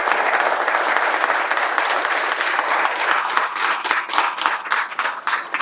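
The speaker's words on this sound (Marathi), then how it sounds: "देवासाठी एकदा जोरात टाळ्या व्हायला पाहिजे." A hall full of people at a devotional satsang celebrating Hanuman's birth claps loudly and continuously, a dense sustained applause that grows a little more uneven and rhythmic toward the end.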